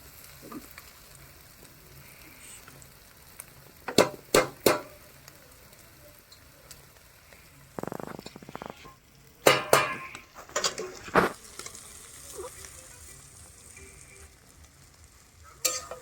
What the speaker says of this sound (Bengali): এবার চাউমিনগুলো করার মধ্যে দিয়ে দেবো একটু নাড়াচাড়া করলেই চাউমিন রেডি